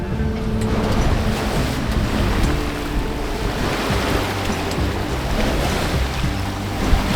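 A sailboat motors through ocean waves, with a steady low engine drone beneath a continuous broadband rush of water and wind, loud and close, no voices.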